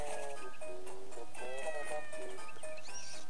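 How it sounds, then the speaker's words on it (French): Cartoonish cat meows from the video game Miitopia, several short high calls in a row at moderate level, with a faint background game tune. "Miaou miaou, oh, c'est trop mignon. Un petit chat."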